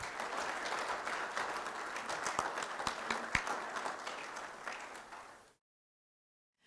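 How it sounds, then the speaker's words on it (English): An audience applauds steadily at a guide dog class graduation, a dense wash of many hands at moderate distance that fades out and gives way to silence. "Let's give class OR467 one more round of applause."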